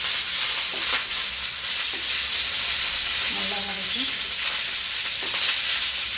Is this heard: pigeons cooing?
no